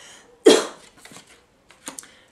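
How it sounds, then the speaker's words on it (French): One strong cough up close, followed by a few softer throat sounds and small coughs trailing off. "du coup ça me fait tousser"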